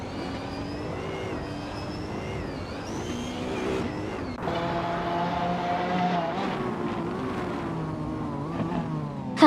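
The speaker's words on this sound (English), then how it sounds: "We're about to watch some exciting AI car races" Race cars in an AI-run car race accelerating, engine whines climbing in pitch through gear changes, a second car's tone cutting in midway, steady and fairly close with no talking.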